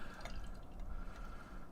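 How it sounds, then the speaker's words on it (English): Barrel-aged imperial stout poured from a bottle into a tulip glass, a steady close liquid trickle with soft glugging and dripping, low carbonation, no talk. "So let's pour this thing and see what it's all about."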